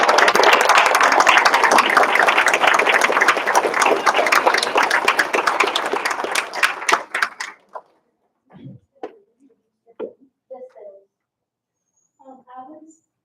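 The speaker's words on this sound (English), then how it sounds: "Would it be okay if we gave our kids a little round of applause?" Applause and clapping for schoolchildren at a school board meeting, a dense sustained burst for about seven seconds that tapers into scattered claps, followed by quieter speech.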